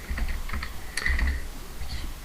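Computer keyboard typing during a 3D building session in the game Wibbo, with a short run of quick, close key clicks and a denser cluster of presses midway, no talking.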